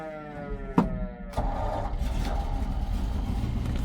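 A 1954 Ford F-800 fire truck's old engine is push-button started: a short whine and a knock come first, then the engine catches and settles into a loud, steady, rough idle close by.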